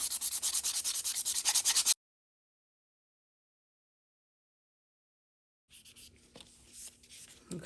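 Rapid, rhythmic sanding strokes scrape loudly for a couple of seconds as a surface is sanded to a dull finish, then silence, followed by softer, intermittent rubbing at the end.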